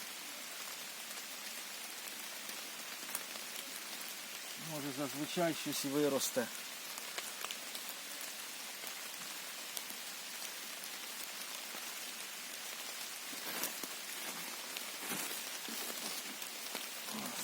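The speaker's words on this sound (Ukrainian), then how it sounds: "На дворі йде такий рівномірний дощик, грибний дощик." Steady light rain patters evenly throughout, with a brief burst of speech partway through.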